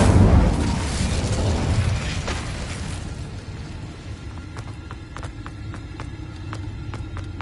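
An Incendio fire spell cast in the video game Hogwarts Legacy bursts out as a loud whooshing blast that roars for a few seconds, then fades into a low rumble with scattered small clicks.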